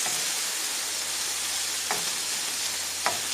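Thawed filling for stuffed marrow fries in a pan with a soft, steady hissing sizzle, and two brief scraping stirs cut in near the end, close and quiet with no speech.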